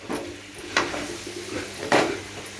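A spoon stirs okra curry with masala in a pan, making a few sharp metallic clanks against the pan over a soft scraping and a faint sizzle.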